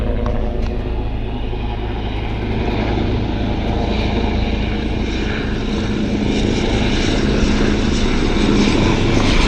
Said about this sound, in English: there's a beautiful helicopter approaching